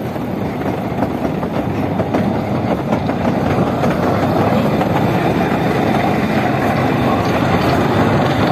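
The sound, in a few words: mountain train passing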